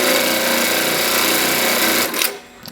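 An embroidery machine stitches a pattern, a loud, close, fast mechanical rattle that runs steadily before slowing and stopping near the end.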